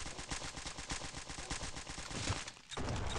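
Rapid bursts of automatic gunfire from a Stick Warfare Blood Strike multiplayer match, loud and dense with repeated sharp shots, a brief lull near the end before the firing resumes.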